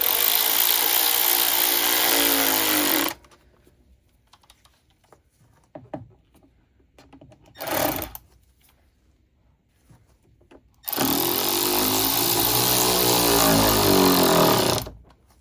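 A power tool tightens the intake clamps on a Hellcat Challenger fitted with a Redeye intake: two loud, steady whirring runs of about three and four seconds, separated by quiet handling noises and one brief burst.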